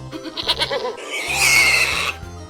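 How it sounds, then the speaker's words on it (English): A goat bleats loudly and close by, a few short wavering calls followed by one longer drawn-out bleat, with no other sounds around it. "goat,"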